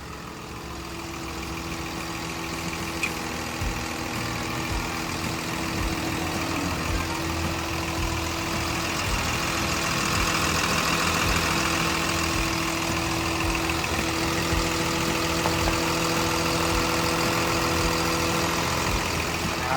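A new Komatsu WA320-8 wheel loader's Komatsu 6D107 six-cylinder turbo engine idles with a steady, even rumble and whirr, heard up close and unbroken for about twenty seconds, with no one speaking.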